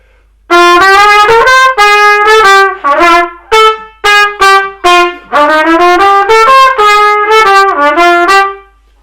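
A wind instrument plays a lively melodic phrase, notes crisply tongued with sharp attacks and short separations, loud and solo.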